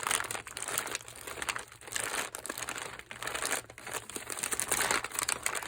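Close, continuous crinkling of paper being handled, a dense crackly rustle that swells and eases without pause.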